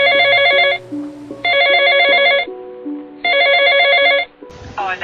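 A telephone rings in three long bursts separated by short pauses, loud and close, with a brief voice-like sound at the very end.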